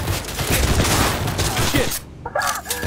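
Rapid gunfire in the video game Cyberpunk 2077, a loud dense burst of shots for about two seconds, then a brief drop before a few more sharp sounds.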